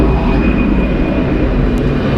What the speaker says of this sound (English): Departing is Delta Airlines Flight 1641 going to Houston. It is an Airbus A320